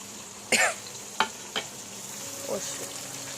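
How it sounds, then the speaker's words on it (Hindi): Cumin sizzling in hot oil as tomato puree and spices go into the pan for a home-cooked dish, a few sharp bursts of frying and stirring close up with a low background hiss. "अब जब ये ज़ीरा अच्छे से चटक जाएगा तो इसमें मैं प्योरी ऐड करूँगी और मसाले"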